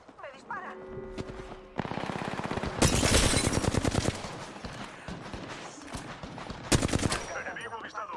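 Rapid automatic gunfire in Apex Legends, a PC battle royale shooter in its Arena mode, rattling in loud dense bursts with a sharp peak near the middle and another late, over game sounds and brief talk.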